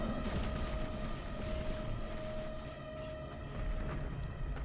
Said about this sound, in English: Back to the shotgun. I find the shotgun far more effective.